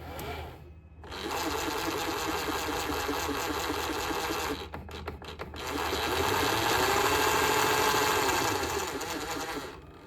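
Grinding, whirring mechanical noise from a Hangar12Customs AMS 2 TPU upgrade kit, running as a steady loud drone with a brief stutter midway before resuming; no talking.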